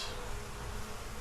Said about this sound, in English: There's gonna be bees flying around because there's a bunch of comb on the ground.